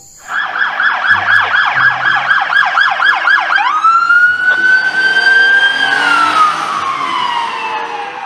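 A toy police patrol car siren wails close and loud, first a rapid rising-falling warble, then switching to a long sustained tone that slowly sweeps down.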